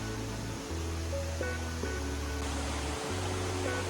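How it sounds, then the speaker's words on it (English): Constant rushing water roars steadily, a broad dense wash of noise from a waterfall with no voices. "We made it to the waterfall."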